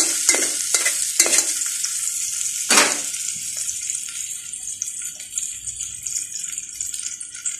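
Tomatoes dropped into a hot pan, loud sizzling and frying with several sharp stirring scrapes early on, then a steady hiss that settles lower.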